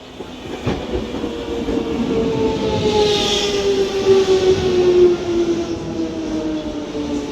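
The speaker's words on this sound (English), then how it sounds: "This London Underground 1996 stock is forming a service to Stratford" A London Underground Jubilee Line 1996 stock train moves through Dollis Hill station with a rumbling roll of wheels on track and a rising electric traction whine. It sounds steady and fairly close, and nobody talks.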